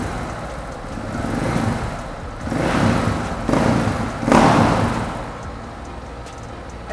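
Husqvarna motorcycle engine idling near 1600 RPM, then blipped through several short revs as the throttle opens, each swell rising and falling back to a rough idle, close by with no talk.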